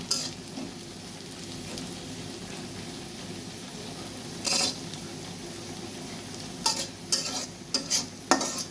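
Onions frying in mustard oil sizzle steadily in a pan, close up, while a utensil stirs and scrapes against the metal in occasional short clatters, several bunched near the end.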